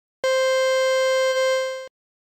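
Padshop 2 granular synth playing C3 with two short grains, a steady buzzy tone an octave up, held for about a second and a half before cutting off cleanly into silence.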